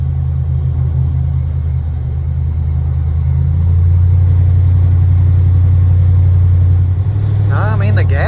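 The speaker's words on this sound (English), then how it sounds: "When I hit the gas pedal, I mean, it accelerates smooth and everything." A car's engine rumbles steadily from inside the cabin, swelling slightly louder midway as it accelerates smoothly on a major road, with a brief rising whine near the end.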